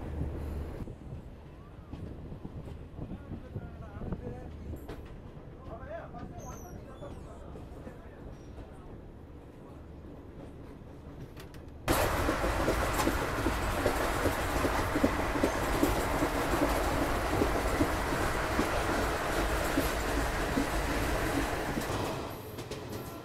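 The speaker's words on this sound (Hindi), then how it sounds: "फ़िलहाल रात के अंधेरे में हमारी गरीब रथ पार कर रही है रानी कमलापति रेलवे स्टेशन" A Garib Rath express train running at night past Rani Kamlapati railway station, heard as a steady rumble and broadband rush that grows sharply louder halfway through, with wind noise on the microphone.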